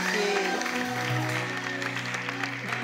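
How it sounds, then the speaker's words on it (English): Audience applause at an evening honoring event for a woman, a broad steady wash of clapping held at an even level throughout with no voices over it. "will you give her one more big round of applause?"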